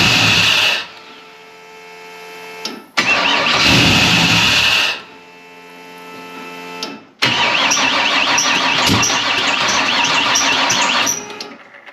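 A turbocharged LS V8 in a 1954 Chevy cranks and fires in three tries, each a loud, close whirring start that catches and idles roughly with a steady hum before cutting out; the final attempt runs longest.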